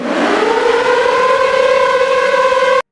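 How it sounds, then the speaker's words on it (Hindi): A loud World War II air raid warning siren in Japan wails steadily, its pitch rising at the start and then holding a sustained howl before cutting off abruptly. "चेतावनी के सायरन बजने लगे"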